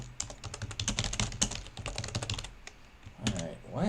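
Rapid clicking of keys on a computer keyboard during coding, steady bursts of close typing that thin out toward the end, with a faint voice briefly audible near the close.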